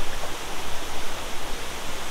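Waterfall rushing steadily as a dense, broadband roar of falling water, close and continuous with slight rhythmic surges and no voices.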